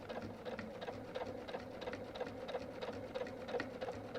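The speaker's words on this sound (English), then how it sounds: "So I'm going to sew down that line," Sewing machine running steadily along a marked line on a quilt border, a fast, even rapid stitching patter with faint ticking, close and continuous.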